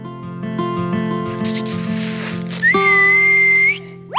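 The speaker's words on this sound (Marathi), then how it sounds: "ए, तू शिट्टी का मारलीस?" On a Marathi comedy stage sketch, a person whistles one long, loud, steady high note close by, rising sharply at the start and cutting off abruptly over a bed of background music.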